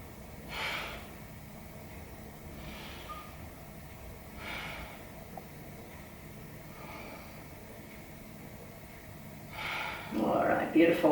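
Deep breaths come during a core-strengthening yoga class: a few slow, soft inhale-exhale surges spaced several seconds apart, faint and close. A louder rustle follows near the end.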